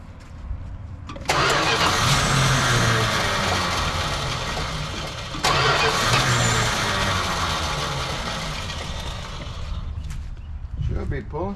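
A 1985 Dodge pickup that has sat off the road for 20 years cranks and fires up loudly and close by. It runs rough, surges again partway through, and settles into a steady idle with people talking nearby.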